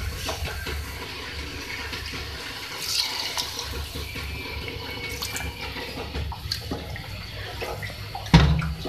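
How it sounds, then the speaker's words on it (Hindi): Water runs and splashes steadily into a cooking pot, a continuous filling sound with a brief louder clunk near the end. "अब इसके अंदर हम पानी ऐड करेंगे"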